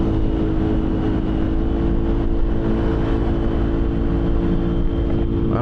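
Yamaha Aerox scooter engine riding at night, a steady close drone with continuous low rumble and wind-like roar throughout, no talk.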